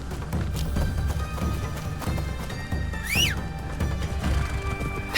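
In the video game Assassin's Creed Shadows, a horse whinnies with a rising, wavering call near the midpoint, while a rhythmic pattern of hoof thuds and a music bed continue underneath at moderate loudness.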